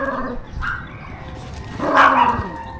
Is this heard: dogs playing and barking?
yes